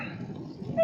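A puppy gives a brief, thin whimper that rises into a high whine at the very end, heard close over low background rumble.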